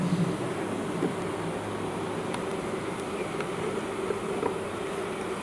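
A beehive roars with a loud, steady, dense buzzing of many bees, continuous and close throughout, with no voices over it.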